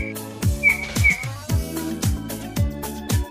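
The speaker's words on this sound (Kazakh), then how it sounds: "Суық торғай." A cartoon bunting sings in an animated children's educational program about birds: a series of loud, clear chirping notes repeat in a steady rhythm, about five phrases in a row, with no talking.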